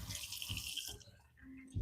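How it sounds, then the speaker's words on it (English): Tap water runs and splashes into a kitchen sink while a cooking pot is washed, a close hissing rush that thins out briefly before a low clunk. "Wash the pot."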